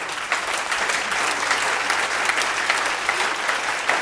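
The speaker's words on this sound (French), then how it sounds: "Est-ce qu'on peut applaudir pour toutes les candidates?" Applause for the contestants at a fashion competition, a continuous, moderately loud patter of many hands clapping at an even level throughout.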